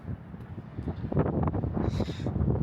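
Wind gusting against the microphone high up on a tall tower in Riga, a steady broadband rush that swells louder toward the end, with no talking.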